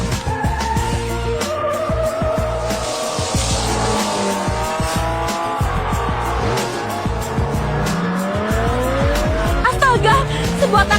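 A speeding car and a taxi racing on a track: engines roar and tires squeal as they skid through a sharp turn, loud and continuous, with voices speaking over the noise.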